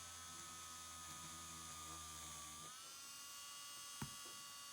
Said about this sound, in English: As you can see here, I'm just drilling the hole now.